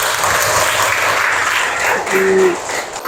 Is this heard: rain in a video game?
no